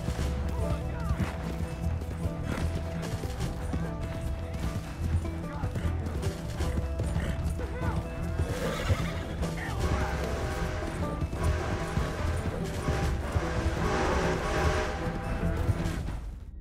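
Horse hooves galloping in Red Dead Redemption 2, a steady clip-clop rhythm under game music and effects, with occasional crashes and a brief whinny, all at moderate level throughout.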